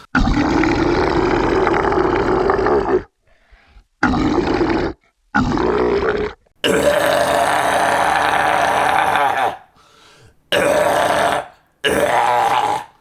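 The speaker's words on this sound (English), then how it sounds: "the right kind of wet, phlegmy, squishy, blorping sound" A voice producing wet, phlegmy, squishy low guttural growls in several loud bursts separated by short silences, some long and sustained, others brief; no speech.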